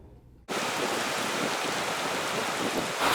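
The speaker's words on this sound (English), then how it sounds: "Got caught in a hailstorm. It's hailing right now," Hail pours down during a hailstorm in a sudden, dense, loud hiss of countless impacts, starting abruptly and continuing steadily with no voices.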